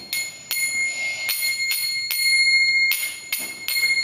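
Bright metallic clashes of a pair of cartals, small hand cymbals, struck together repeatedly, about eight strikes with long shimmering, slightly clashing, dissonant rings.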